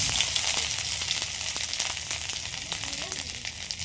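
Crushed ginger hits hot oil and sizzles in a bright, dense, continuous hiss with small crackles scattered through it, close and fairly loud, no voices.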